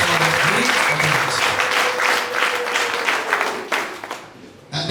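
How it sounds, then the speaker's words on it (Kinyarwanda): Church congregation in Kayonza, Rwanda, clapping loudly and densely in sustained applause that tapers off near the end, with a voice heard briefly over it. "Let's clap for our great God."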